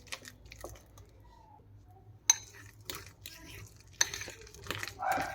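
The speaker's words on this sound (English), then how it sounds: "Now we can mix with a spoon." A spoon stirs mashed potatoes with green chili in a bowl, making soft, quiet squelching and scraping with a few sharper clinks against the bowl, spread over several seconds with brief faint voice in the background.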